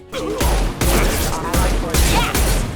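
Gunfire from the video game Mass Effect 2 comes in heavy, booming bursts of roughly four loud blasts with a crunchy tail, sounding close and dominant.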